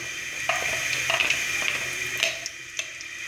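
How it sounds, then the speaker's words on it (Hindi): Dry coriander, black pepper, salt and turmeric roast in a pan, giving a soft steady sizzle with occasional light clicks and scrapes of stirring throughout. "इन सब चीज़ों को 2 मिनट के लिए भूनूंगी।"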